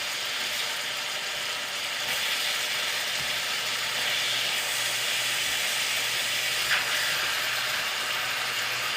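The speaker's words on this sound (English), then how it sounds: "And then the meat, as we sear it off, just the natural fat coming out of the meat" Beef chunks searing in a hot pan for braised beef, a continuous dense hiss of fat sizzling at steady loudness throughout, with one faint tap near the end and no voices.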